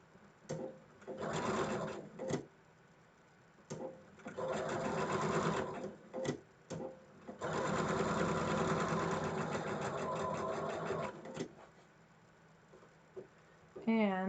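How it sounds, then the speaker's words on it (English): A domestic sewing machine stitching quilt blocks, running in several close bursts of rapid mechanical whirring and clatter, the longest lasting about four seconds, separated by pauses and short clicks. "now I'm ready to stitch these"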